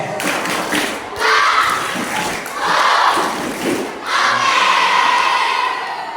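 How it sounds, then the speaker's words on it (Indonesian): Children in a Ramadan gathering do the "tepuk oke" clapping routine, clapping in rhythmic bursts mixed with loud group chanting and shouts, close and energetic. "Oke, semuanya tepuk oke"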